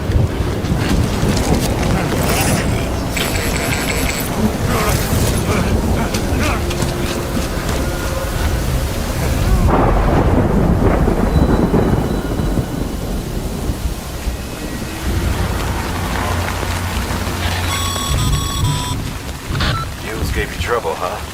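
Heavy rain and rolling thunder during a storm in the video game Death Stranding: loud, continuous roaring downpour with wind-like rumble and swells, tonal game sounds appearing intermittently throughout.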